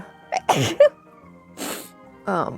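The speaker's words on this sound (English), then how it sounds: "Been sneezing a lot." A person sneezes a few times in quick succession, close and sharp, with short breathy gasps between the bursts.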